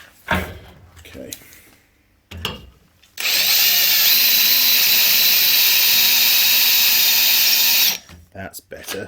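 A few knocks and handling noises, then a power drill bores steadily at a lower, even pitch for several seconds, run at slower speed with more pressure, before stopping, with clatter after.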